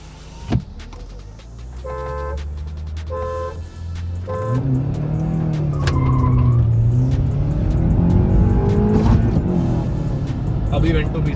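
A VW Vento 1.6 TDI and a Honda Accord accelerating hard side by side in a drag race, with engine drone climbing steadily and loud throughout, a brief thump near the start and a voice talking over it.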